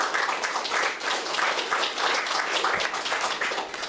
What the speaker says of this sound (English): I would like to give some applause to the Arts Council